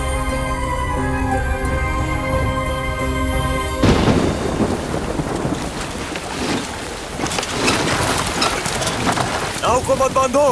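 Heavy rain and a river storm in a scene from the Hindi film Bajirao Mastani: sustained music gives way to a dense roar of pouring rain and rumbling thunder with splashing water around a boat, loud and continuous.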